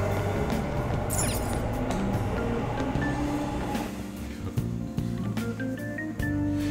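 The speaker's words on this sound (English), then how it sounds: "the subway car" A subway car ride in Persona 5, heard as a steady rumbling train drone with rhythmic clatter and faint tonal chimes, fairly quiet and alone without talk.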